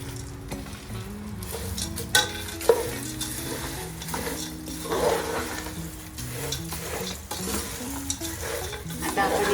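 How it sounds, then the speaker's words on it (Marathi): Poha chivda with fried curry leaves and other fried ingredients is stirred and sautéed in a pan, giving continuous scraping and rustling with sizzle beneath and a couple of louder knocks from the spoon. "आता आपण हे छान परतून घेऊया"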